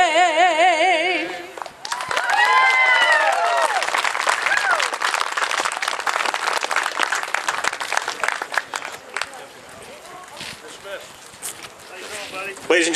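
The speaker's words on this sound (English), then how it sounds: "big round of applause for Nancy Gerlich" Outdoors at a Tea Party event, a crowd breaks into applause and cheering right after a sung anthem ends, sustained clapping and whoops with wind buffeting the microphone before fading toward the close.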